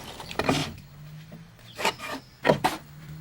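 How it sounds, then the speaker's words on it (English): A pencil rubs along wooden rafters against a rafter template cut at a 4-12 plumb, giving three short dry scratching strokes with pauses between, close and alone without talk. "we're using this piece of rafter template. It has a 4 12 plumb cut on it,"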